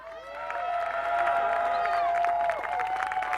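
A crowd at the roundnet world championships cheers for the USA women's world champion team, with loud sustained whoops and shouts over scattered clapping, lively and close.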